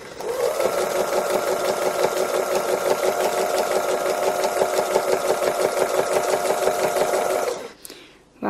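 A sewing machine stitches free motion embroidery in a loud, continuous rapid whir with fast needle pulsing, running steadily for about seven seconds before stopping abruptly.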